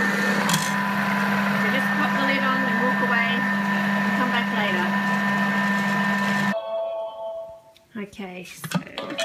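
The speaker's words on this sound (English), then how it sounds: "that's what it looks like when it's finished the 10 minutes of blending" A Thermomix-style blender whirs steadily at speed 5 while blending a caramel mixture, a loud continuous motor drone that cuts off abruptly, followed by a few clinks and handling sounds.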